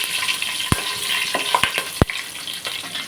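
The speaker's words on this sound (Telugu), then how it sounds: "కొంచెం ఇలా ఫ్రై చేసుకున్నాను." Onions and whole spices fry in oil for chicken biryani, giving a steady hissing sizzle with a few sharp clinks and knocks from utensils against the pan, close by and without talking.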